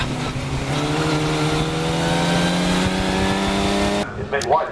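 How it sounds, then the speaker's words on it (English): Historic Formula Ford 2000 race cars thunder around Oulton Park, loud sustained engine drone with rising pitch as cars pass in a line, a race commentator talking over it, then the roar cuts off abruptly near the end. "it is a line of historic Formula Ford 2000 cars"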